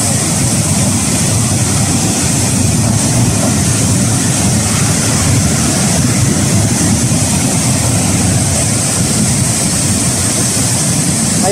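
Cold lahar mudflow from Semeru volcano churns past and undercuts a high cliff, a loud continuous roar and rumble, surf-like and steady throughout with no pauses.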